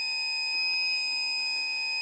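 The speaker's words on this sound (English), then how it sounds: "the alarm is going off that the battery is been activated and has lost some of its charge" The alarm on a Weltman battery backup sump pump sounds after the backup has switched on and drained some charge: a steady, piercing electronic tone that holds continuously, close and alone.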